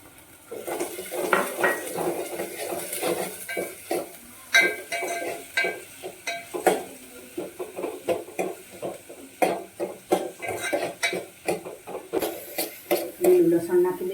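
Onions tossed into a pan for vegetable Manchow soup are stirred briskly, with repeated metal clanks and scrapes of the spoon against the pan over a soft sizzle, and a voice speaks at times.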